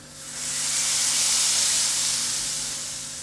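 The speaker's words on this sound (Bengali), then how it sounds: "এটা এখন আমি ডালের উপরে ঢেলে দিলাম" Hot tempering poured over creamy restaurant-style dal makhani, giving one loud, steady sizzling hiss that swells up and slowly tapers across a few seconds, with no talk.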